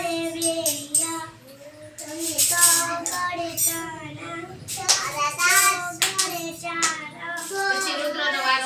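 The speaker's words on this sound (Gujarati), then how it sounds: "ચાલો પાડો બધા તાળી કે હાલો દિવ્યા છોટી બોલજે" Children at an anganwadi clap hands together in uneven bursts while a sing-song chanted voice with harmonic tones carries on over the top, the claps close and mixed in with the singing.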